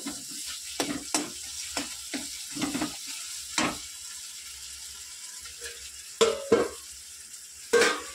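Cut potatoes hit a hot pan of frying food, giving short bursts of sizzle and scraping stir noises, spaced irregularly with quiet gaps between them, close and moderately loud.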